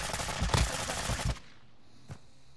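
Gunfire in Call of Duty Warzone 2.0, a dense rapid burst of automatic shots for over a second, then a lone faint shot after a short quiet gap.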